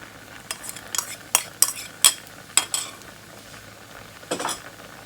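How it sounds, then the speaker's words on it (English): Pad thai with its sauce tossed in a hot pan, with a series of sharp utensil clinks and scrapes against the pan over a faint sizzle, close by and without talk. "We're going to toss this around, and we're just going to let that cook for about a minute."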